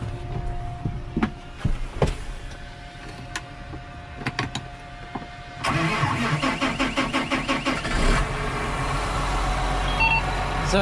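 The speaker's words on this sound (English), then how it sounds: "I figured I'd start the tractor, let it warm up while he's coming up here." A tractor's diesel engine cranks with a few sputters, then catches and settles into a steady, rumbling idle nearby.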